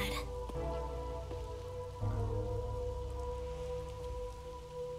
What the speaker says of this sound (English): It's a gentle rain, protecting us.